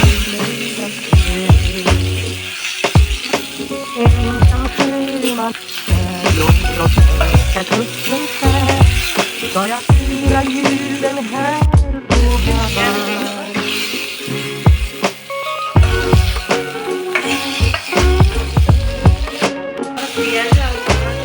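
Tomatoes frying in a little oil in a pan, a steady sizzle broken by frequent clinks and scrapes of a stirring spoon against the metal, close and continuous.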